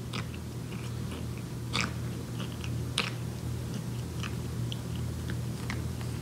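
A cat grooms itself noisily with wet slurping and licking sounds, repeated in irregular bursts over a steady low indoor hum, close by with no talking.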